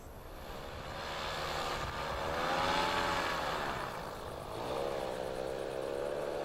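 Motorized paraglider flying over an ancient Punic archaeological site, its engine a steady droning buzz that swells and recedes slightly as it passes, moderately distant and alone with no voices.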